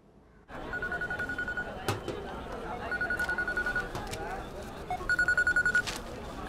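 A telephone rings in a film scene, sounding in three repeated bursts of electronic trilling spread across several seconds, with background movement and room sound between rings.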